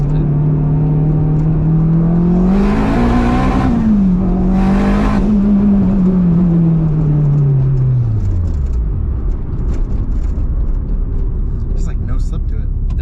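A turbocharged K24-swapped AWD Acura RSX Type S accelerates hard, its engine note rising steadily through the revs with a brief lift between pulls, loud and close from inside the cabin, then settling into a lower drone, with someone talking.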